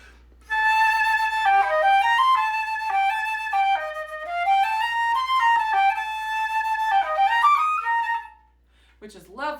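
A solo melodic instrument plays the opening melody of Bergère captive strictly in tempo at eighth note equals 152, a clear lilting single line heard close, fading out near the end.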